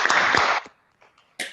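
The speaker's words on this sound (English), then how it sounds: "I'd like to please applaud you." Applause from the audience at the Global Social Business Summit 2021 closing ceremony, a brief burst of clapping that cuts off quickly, followed by scattered claps and a short final flurry.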